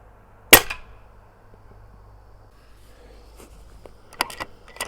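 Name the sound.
shot fired at targets through DNT Zulus scope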